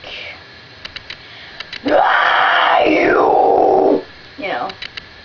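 A vocalist demonstrates an exhale scream, a sustained harsh, breathy, distorted roar lasting about two seconds, close and loud, with a shorter rasp after it and faint clicks around it.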